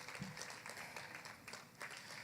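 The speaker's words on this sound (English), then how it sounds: "Can we give a round of applause to Ms. Angela Martin?" Audience applause, a steady wash of many hands clapping at moderate distance, fairly faint, continuing evenly throughout.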